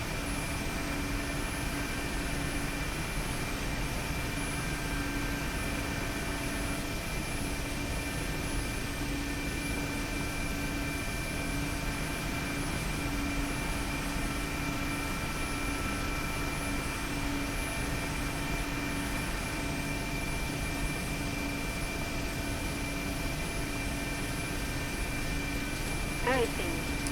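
Twin turbine engines of a Mi-8MTV2 helicopter in the DCS flight simulator, flying low through a left crosswind with engine icing, hold a loud, steady drone with a constant rotor hum for the whole stretch.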